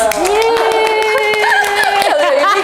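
Studio team in an Indonesian skincare talk show clapping together, a steady patter of hand claps running beneath sustained singing or music with a voice over the top.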